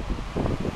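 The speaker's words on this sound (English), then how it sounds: "You can hear how freaking windy it is out here." Strong wind during a windstorm at night outside an apartment roars and buffets steadily, a dense low rumble with gusting swells and no talking.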